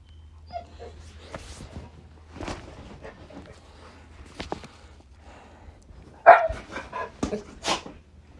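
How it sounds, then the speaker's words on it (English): A pet dog gives scattered barks, yips and whimpers in a quiet indoor space, with short bursts spread across the stretch and a louder cluster near the end. "my dog being goofy right now."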